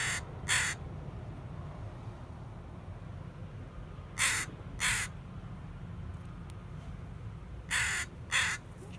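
A crow caws outdoors near an island ferry area, giving loud harsh calls in three pairs spaced a few seconds apart over a steady low background rumble.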